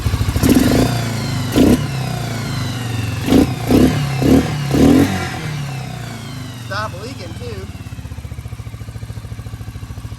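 Yamaha Raptor 350 ATV with a carburetor: the engine runs close by with a steady putter and several short revving bursts, then settles to an even idle while someone talks over it.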